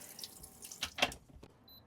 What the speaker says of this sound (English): We've got water.